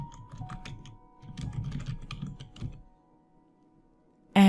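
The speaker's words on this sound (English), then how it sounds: "type out your signature inside of the signature text box" Quick bursts of clicky computer keyboard typing as a signature is entered, close and clear, in two runs separated by a brief pause, then a sudden loud thump at the very end.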